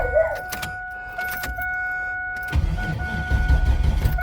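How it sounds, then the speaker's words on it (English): A 1996 Camaro with a turbocharged LS 5.3 V8, GT45 turbo and new injectors, fuel rail emptied, is cranked without firing: a steady warning chime rings at first, then the starter churns loudly and rhythmically, close by, with no speech. "There it goes, trying to start."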